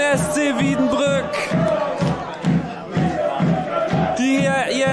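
Football supporters of SC Wiedenbrück roar and chant after their side's equaliser in a German lower-league match, a loud rhythmic crowd chorus with pulsing beats, sustained throughout.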